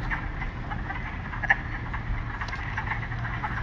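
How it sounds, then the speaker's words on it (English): Wood frogs calling in spring at a nature center, a faint steady chorus of short cluck-like notes over a low background hum, with no talking. "Wood frogs make a cluck-like call."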